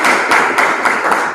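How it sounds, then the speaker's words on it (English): Applause for a graduate at a programme launch in Malawi, a brief patch of clapping with several bursts that peak every few tenths of a second, fairly loud and steady. "I'd like to give him a round of applause"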